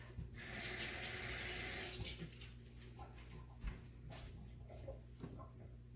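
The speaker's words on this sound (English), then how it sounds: "let me throw this away and wash my hands. I'll rinse them off." Water from a running tap splashes over hands being rinsed at a sink, a steady rushing hiss that is loudest for the first two seconds and then drops to a softer, irregular trickle with small knocks.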